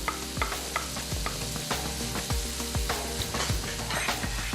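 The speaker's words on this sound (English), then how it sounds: "So the bacon started to brown up and the fat's rendered out of that." Bacon, about 200 grams, fries in a pan as its fat renders out, giving a steady close crackling sizzle with frequent small pops and occasional stirring scrapes, with no talking.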